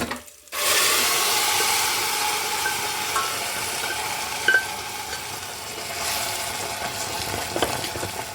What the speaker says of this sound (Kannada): ಈ ರೀತಿ ಎಲ್ಲ ಬೆರೆಸ್ಕೊಳ್ಳೋಣ